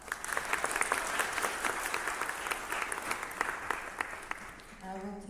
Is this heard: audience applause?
yes